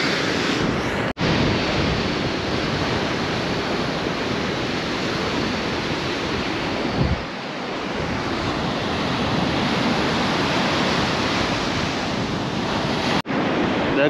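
Stormy sea surf and strong wind on a shore during a storm, a loud continuous roar of crashing waves and wind buffeting the microphone with no pause.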